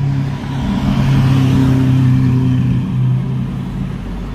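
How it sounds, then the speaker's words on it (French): A Lamborghini Aventador SV's V12 engine rumbles loudly and steadily at close range with a deep, sustained drone, swelling slightly as it revs, with no talk over it. "ce V12."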